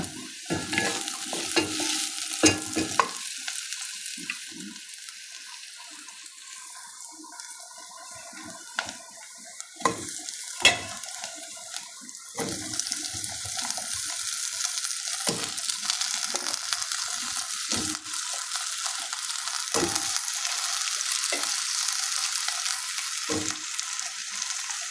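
Chopped onions sizzle steadily in a frying pan, with sharp clinks and scrapes of a spoon stirring every few seconds and the frying noise growing denser toward the end.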